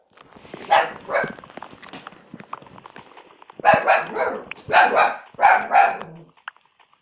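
A dog barks in two bursts, a couple of sharp barks early and then a run of three or four loud, close barks later, with no talk over them.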